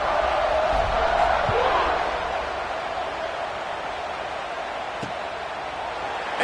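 Large football stadium crowd roaring steadily for a Florida State Seminoles game at kickoff, a dense wash of cheering that swells loud early then holds at a slightly lower roar, heard at a distance.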